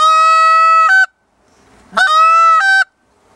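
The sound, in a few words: goose call device imitating goose honks, longer pause between notes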